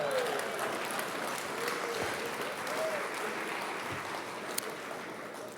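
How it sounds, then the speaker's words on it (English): Steady, sustained audience applause filling a hall during the Maui County Mayor's State of the County Address, a continuous wash of clapping from a large crowd with a few faint whistles. "We had about the same applause for both of those."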